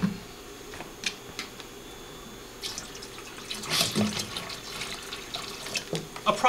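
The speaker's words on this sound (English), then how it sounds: "fill it up with some water" Tap water runs into a Mr Beer home-brewing keg, a quiet steady splashing and trickling with a few clinks and handling knocks, close by.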